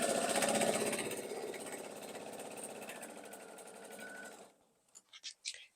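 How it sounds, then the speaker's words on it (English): A sewing machine stitches quilt triangle pairs in a fast, even run of needle strokes for about four seconds, then stops, leaving a few soft taps and handling sounds. "And I'm going to sew them."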